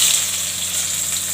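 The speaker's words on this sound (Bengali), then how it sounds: "আমি শুকনো লঙ্কা ফোড়ন দিলাম, জিরা ফোড়ন দিলাম, পেঁয়াজটা দিয়ে দিচ্ছি।" Onion drops into hot oil already seasoned with dried chilli and cumin and sizzles loudly and steadily in a brief, close burst, with no speech.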